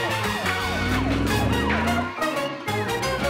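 A cartoon police car siren wails loudly in a children's alphabet game, with sweeping up-and-down tones layered over bright music and sound effects, playing without talk.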